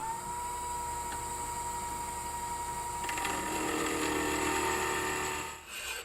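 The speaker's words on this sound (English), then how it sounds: "Then it's back to the miter finisher." Tube miter finisher cutting bike frame tubing for a DIY mountain bike frame, a steady machine whine with a grinding, chattering cut that rises partway through and stops near the end.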